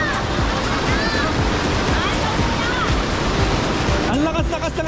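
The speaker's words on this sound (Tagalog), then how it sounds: "Ang lakas-lakas ng alon eh. Agos, di alon." Strong rushing spring water current at West Haven Spring resort in Liliw, Laguna, a steady broadband roar throughout with voices over it.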